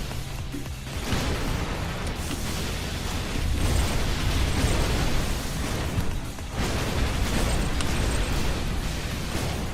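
Grenade cannon blasts from the game Rise From Fire - Omega Phenex Beta, heard as dense, continuous booming and crackling explosions that surge louder in bursts with no pauses or talk.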